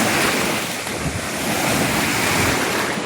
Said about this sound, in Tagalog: kahit malakas po ang mga alon.